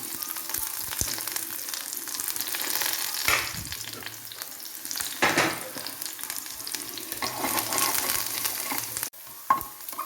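Mustard seeds, onion and curry leaves fry in hot oil in a pan for a cucumber and lentil curry, with a steady, loud broadband sizzle and crackle throughout, a few bursts of stirring, and a short dip near the end.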